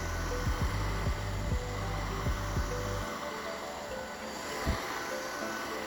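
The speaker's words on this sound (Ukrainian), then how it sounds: "Наступний за чергою пилосос К10." A Mova K10 wet vacuum cleaner running with a steady, close whirring motor drone, broken by several brief bumps or clacks early on, then continuing more quietly after a drop midway, with no talk.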